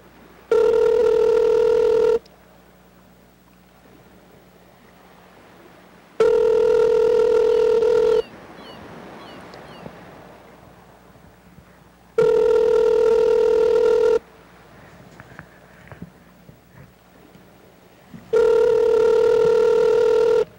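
A telephone call rings out through the handset: four long, loud ringback tones evenly spaced with quiet gaps between them, and faint background noise in the pauses.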